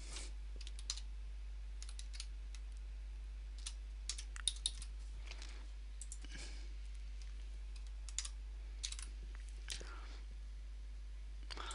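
Data typed on a computer keyboard: scattered soft key clicks and short bursts of tapping, close and quiet over a low steady hum, with faint murmuring voice.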